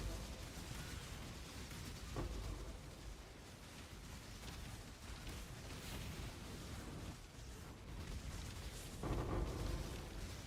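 Volatile monsters explode in Path of Exile, making a dense, continuous wash of bursting blasts and rumbling booms, with slightly louder bursts now and then and no talk.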